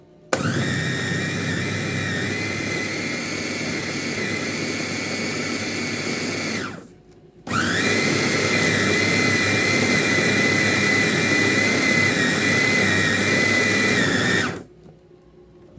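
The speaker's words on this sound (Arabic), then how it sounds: "وهنحط البصل، وهنحط الثوم والفلفل كله مع بعض ونضربه بقى" A food processor grinding onion, garlic, pepper and rice for Egyptian rice kofta: a loud, steady motor whine runs for about seven seconds, stops briefly, then runs again for another seven seconds before cutting off.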